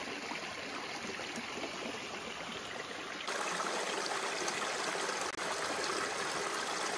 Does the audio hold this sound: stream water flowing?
yes